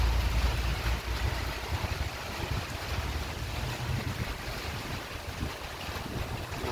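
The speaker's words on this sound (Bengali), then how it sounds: "বাতাস বাতাস, বৃষ্টি আর বৃষ্টি।" Wind and rain during a storm in Qatar, a loud continuous roar of gusts with rumbling buffeting against the microphone and no voices.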